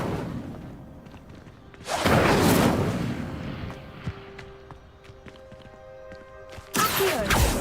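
A fire spell cast in Hogwarts Legacy: a loud broadband whoosh burst of flame lasting about a second, followed by quieter game ambience and small clicks, then another sharp loud burst at the end.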